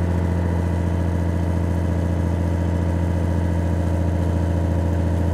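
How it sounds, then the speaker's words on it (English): A 1985 Toyota Supra engine idles smoothly and steadily at close range, with an even low rumble that holds without variation throughout. "But it's idling smooth"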